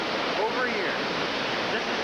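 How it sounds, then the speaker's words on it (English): Steady roar of Cucumber Rapids at Ohiopyle, a dense, continuous wash of churning river water with no pauses, loud and close. "here we are at the mighty Cucumber Rapids"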